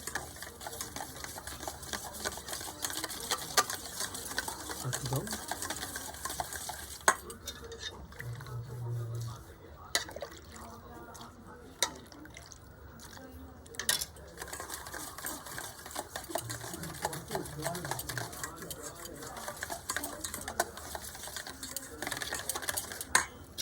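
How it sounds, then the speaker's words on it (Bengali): Whisked yogurt being stirred into milk in a bowl for homemade sweet doi, giving a steady, busy run of soft scraping and light clinking across the whole stretch, close and moderately loud, with no talk over it. "এই ফেটানো দইটাকে খুব ভালোভাবে মিশিয়ে নেবো"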